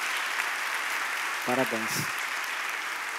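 A church congregation claps steadily under the hiss of a large hall, the applause soft and distant, while someone speaks briefly over it.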